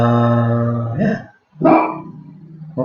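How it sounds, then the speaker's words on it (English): A dog barks loudly and close by, giving two or three deep, drawn-out barks with a brief gap between them and no other sound. "Oh, the dog's gonna bark."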